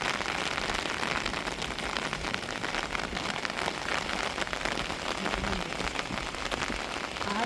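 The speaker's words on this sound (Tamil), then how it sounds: "சரியான மழைங்க பேஞ்சிக்கிட்டு இருக்குது." Heavy rain pours down during a windy storm, a dense, loud, unbroken hiss of drops drumming on surfaces, with no voices over it.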